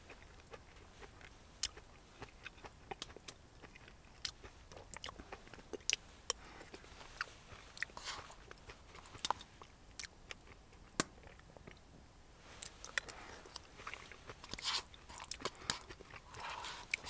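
Crunchy spicy chickpeas are chewed close to the ear during winter camping, with a steady run of sharp, dry crunches and bites spread over the whole stretch and no talk.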